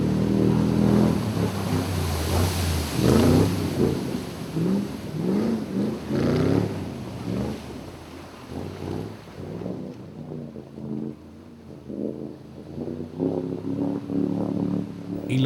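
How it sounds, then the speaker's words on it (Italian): A Toyota V8 off-road vehicle in a Rainforest Challenge rally stage drives through the Maas river, its engine revving and labouring in pulses amid rushing, splashing water and wind buffeting, loud and close throughout. "Il potente motore V8 4005 Toyota che equipaggia questo VJ gli consente di offrire uno spettacolo"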